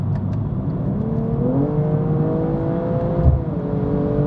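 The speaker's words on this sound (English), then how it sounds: "The shifts are really fast, and even the downshifts are rev matched." A 2022 BMW M240i xDrive accelerates hard, its engine note climbing steadily through quick rev-matched gear changes, loud and close with no talking.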